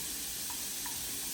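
Grated carrots and frozen baby peas cook in a pan for shrimp fried rice, a continuous bright sizzling hiss heard up close with no talking.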